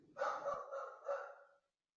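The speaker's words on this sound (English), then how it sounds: "And my dog's barking." A pet dog barks at home in a short quiet burst of about three rapid barks that run together, moderately distant and alone with no talking.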